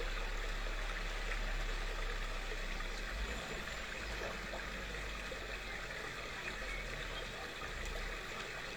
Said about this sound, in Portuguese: o som da água.